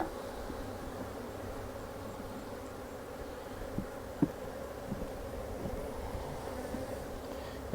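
Honey bees hum steadily around an open double nuc hive while frames and queen cells are handled, a continuous close drone with a few brief knocks and clicks.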